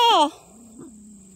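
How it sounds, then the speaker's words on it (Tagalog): A dog in rural Pililla gives a short whining bark, a brief close yelp that trails off quickly into a faint whimper, with near-silence after. "Tay! May aso!"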